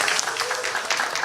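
An audience at a 2017 Christian humanities forum applauds to welcome the panelists in a brief, close burst of overlapping claps.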